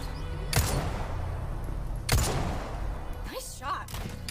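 Gunfire in the video game Resident Evil 4: two sharp, close shots about a second and a half apart over a low game background, with some talking near the end.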